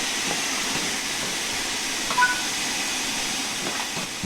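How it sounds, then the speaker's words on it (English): Steam locomotive pulling away with its cylinder cocks open in the Train Sim World 5 video game, a steady loud hiss of venting steam with soft chuffing underneath and a brief tonal blip midway. "Once the wheels have rotated a few times with the cylinder cocks open, you should close them to preserve steam."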